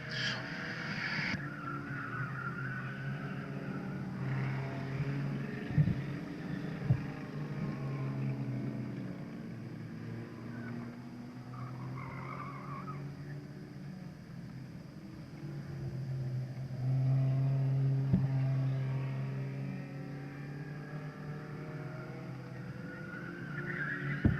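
Stock cars race around a speedway, their engines droning as a steady, fairly distant roar that swells and fades as the cars pass, with a louder passing burst near the end.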